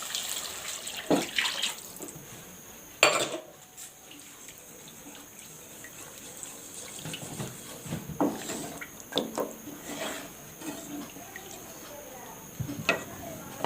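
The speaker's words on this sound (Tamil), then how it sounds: "இப்போ நம்ம ஒரு சொம்பு தண்ணி ஊற்ற போகிறோம்." Water splashes and pours into a pan in uneven bursts, with clanks and sizzling-like hiss between, and faint voices in the background.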